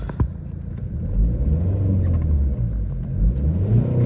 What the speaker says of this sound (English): I'll give the car a very quick rev.